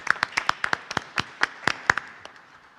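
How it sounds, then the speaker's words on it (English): Sparse, scattered claps from a small audience at a school board meeting, honoring Hyundai for its donations; a dozen or so distinct sharp hand claps at uneven intervals, fairly close, thinning out toward the end. "I'd really like to give Hyundai a round of applause for their continued support"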